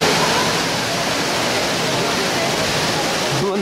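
Falling water in Dubai makes a loud, dense, unbroken rushing roar that stays steady throughout, close and with no pauses.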